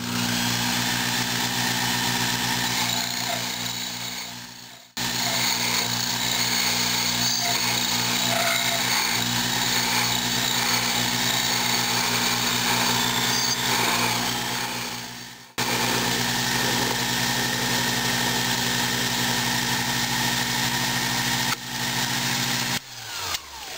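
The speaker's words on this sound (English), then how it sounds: "We're gonna cut her off now." A lathe parts off a small steel roller pin for a Maytag Model 92 ignition system, a steady loud whining machining drone with the motor humming underneath, broken by two brief pauses where the cut stops and restarts.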